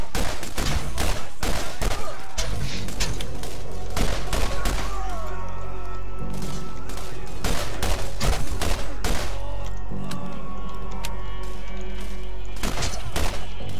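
Rapid gunfire in Borderlands, a dense fusillade of sharp shots and automatic bursts hammering on for most of the stretch, loud and close with only short gaps.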